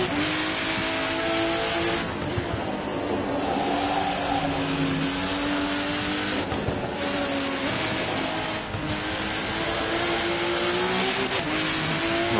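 A race car engine drones steadily in the racing video game RennSport, holding a sustained mid-pitched tone with slight shifts in revs and tyre and wind noise across the whole stretch. No one speaks.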